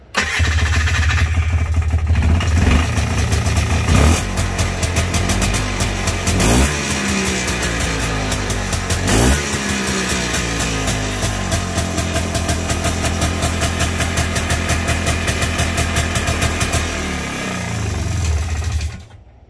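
A Polaris two-stroke engine starts and runs loud and close for about twenty seconds with a buzzy, uneven idle, several revs rising and falling, then cuts off at the end after a starter replacement.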